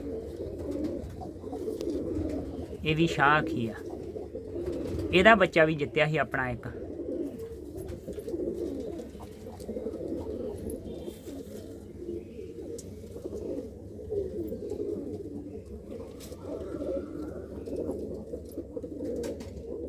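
Pigeons in a racing-pigeon loft coo in soft, rolling calls, with a clear burst of cooing and flutter near the start, over a steady low hum and someone talking close by.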